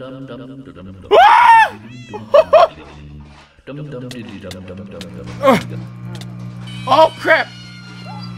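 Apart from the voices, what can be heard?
dog barking in Minecraft video game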